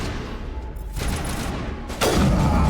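Gunfire from a shooter-style combat sequence in Mass Effect Legendary Edition: a few sharp, loud bursts and booms crack out over a dense layer of game noise, with no one talking during them.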